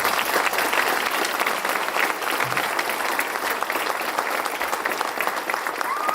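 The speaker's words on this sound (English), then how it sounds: "Let's give her another round of applause." Sustained audience applause at a ribbon cutting for a community business accelerator and childcare initiative, a steady dense wash of many hands clapping at even loudness throughout, with no voices standing out.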